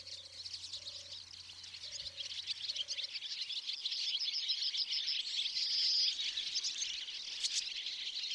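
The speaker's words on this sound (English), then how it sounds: "Linnets fly around the landscape wherever you look, dancing with the swallows and singing their bouncy, joyful song." Linnets in an English hay meadow sing busy, bouncy twitters over a dense chorus of buzzing insects, steady and fairly close, with a few soft tones early on.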